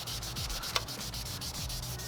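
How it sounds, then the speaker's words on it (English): Wet sandpaper rubbed over a cloudy car headlight lens during restoration, a close, steady gritty scraping with rhythmic back-and-forth strokes and one brief sharper tick partway through. "The whole purpose of sanding is to get these things extremely smooth and clean."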